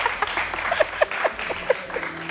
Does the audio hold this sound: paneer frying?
no